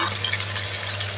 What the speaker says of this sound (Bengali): পেঁয়াজটা ভাজা হওয়ার সাথে সাথে